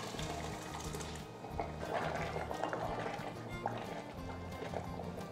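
Cooked lentils are poured into a pot of chayote kootu, giving soft wet glugs and splashes over a low bubbling simmer, close by and moderately quiet.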